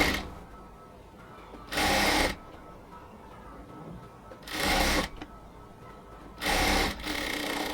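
A sewing machine stitching a blouse seam at half an inch runs in three short bursts of about half a second each, separated by quiet pauses.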